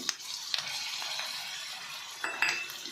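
Onions with ginger garlic paste frying in a pan for aloo kurma, a steady close sizzle with occasional scrapes and stirring clinks of a spoon against the pan, no voices.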